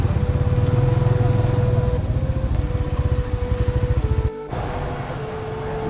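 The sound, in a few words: motorcycle engine running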